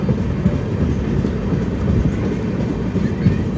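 The Sairang Rajdhani Express rolls slowly along the track. A steady low rumble and faint rail clatter continue throughout, heard from inside the train.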